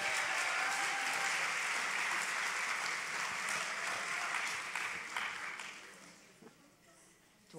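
Audience at a preschool graduation applauds steadily, a dense wash of clapping that holds loud for several seconds and then fades toward the end.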